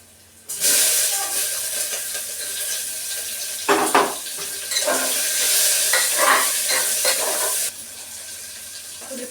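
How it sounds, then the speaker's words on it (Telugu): Sliced onions dropped into hot tempering oil with cumin, dried red chillies, garlic and curry leaves, a loud, steady sizzle that starts abruptly and carries on with occasional stirring clatter, close and without talk. "పోపు వేగిన తర్వాత ఉల్లిపాయలు వేసుకోవాలి."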